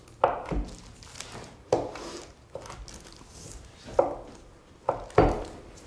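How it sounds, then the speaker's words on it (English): A knife cuts through scone dough in about six separate, soft, close-up chops, each a short thud with quiet pauses between them. "I'm going to cut it into 12 slices."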